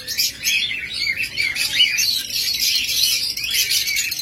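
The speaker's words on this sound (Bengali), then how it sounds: "চমৎকার এক জোড়া সানকোনো রয়েছে, টেম এবং ব্রিডিং পেয়ার।" A tame breeding pair of sun conures chirps continuously in shrill, rapid, overlapping calls that stay loud and close throughout, with no talking.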